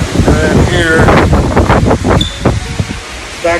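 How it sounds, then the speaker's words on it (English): Strong wind roars and buffets the microphone in loud gusts while a person talks over it. "Really, really windy"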